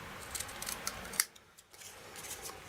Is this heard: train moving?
no